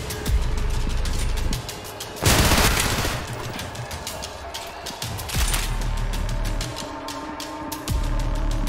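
Shotgun blasts and other gunfire in the fast first-person shooter Trepang2, rapid loud repeated shots with a big burst in the middle, running continuously through a busy game soundscape.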